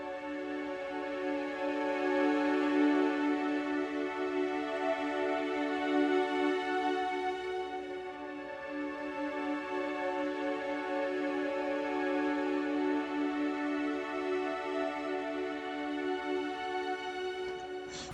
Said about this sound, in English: Next sound, we got some strings from BBC Orchestra.